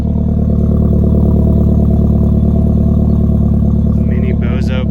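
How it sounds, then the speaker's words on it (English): Mk4 1.8T car with copper-core spark plugs idles steadily close up, a loud continuous engine and exhaust drone filling the whole clip, with brief faint higher noises near the end. "See if we can get an exhaust clip so you can hear."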